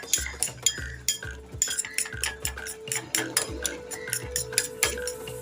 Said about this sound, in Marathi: आता हे सर्व मिश्रण आपण चांगलं ढवळून घेऊया